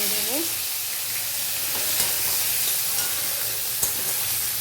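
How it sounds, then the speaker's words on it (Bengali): Chopped tomatoes frying with cardamom and cinnamon in a pan, a steady loud sizzle with occasional stirring scrapes and clicks, no talking. "টমেটো একটু ভাজা হয়ে গেলে আমি মশলা দেবো"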